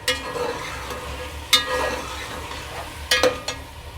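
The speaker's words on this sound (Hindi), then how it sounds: "1 से 2 मिनट हो गए यहाँ पे आलू भूनते हुए।" Potatoes, about half a kilo, frying and being stirred in a pan for matar pulao, with a low steady sizzle and a few sharper scrapes and clinks of the spoon against the pan.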